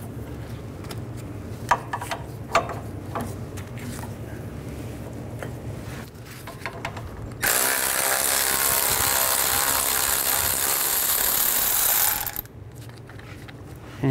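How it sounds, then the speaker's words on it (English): A ratchet on a 21 mm socket clicks as caliper bracket bolts are worked loose on a 1999-2007 Chevy Silverado 2500HD front brake, followed by a loud sustained whirring from a power tool. "Take these two caliper bracket bolts out. Use a 21 millimeter socket."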